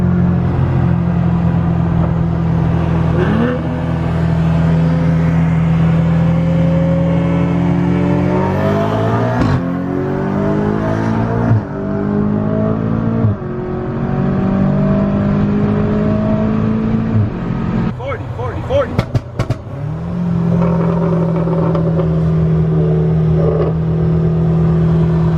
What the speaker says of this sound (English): Time for the blue Supra that we saw earlier.